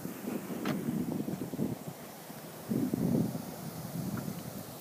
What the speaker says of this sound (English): Oh, wind, stop blowing.